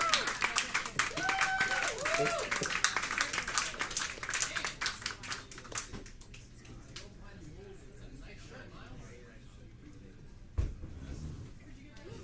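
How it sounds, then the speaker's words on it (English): Pub audience applauding and clapping at a live storytelling show, a dense burst for the first six seconds that thins into scattered claps and crowd murmur, with voices mixed in. "So let's have a very pleasant round of applause for Miles"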